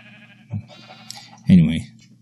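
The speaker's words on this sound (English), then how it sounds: "So these here are sheep." Sheep in the video game Minecraft give two bleats, a short one followed by a louder, longer wavering bleat, set against a low steady hum and soft game sounds.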